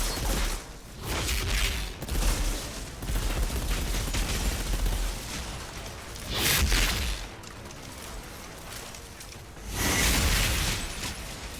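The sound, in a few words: mortar fire from the video game Outriders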